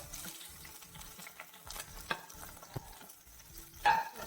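Ginger, green chili and curry leaves dropped into hot oil for egg bhurji, a fairly quiet sizzle with repeated stirring scrapes and a few sharper clinks of the spoon near the end.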